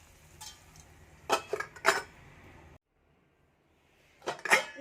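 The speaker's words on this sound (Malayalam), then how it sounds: "നമുക്ക് ഈ പാത്രം ഒന്ന് അടച്ചു വെക്കാം" Lid set onto a cooking pot of prawn curry, a few close metallic clinks and scrapes followed by a pause and another short rattle of metal.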